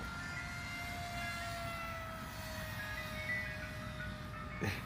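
A small engine drones steadily with a thin, high whine that shifts slightly in pitch as a model airplane makes a low pass close by, flown line of sight.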